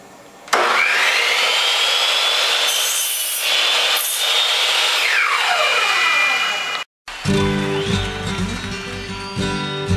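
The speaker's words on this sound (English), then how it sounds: "Now I've got this 4-foot 1x2 and we're cutting it into 2-foot pieces." A table saw cuts a 4-foot wooden 1x2 board into 2-foot pieces: a loud steady whine as the blade bites, a brief silence, then the motor spinning again close by.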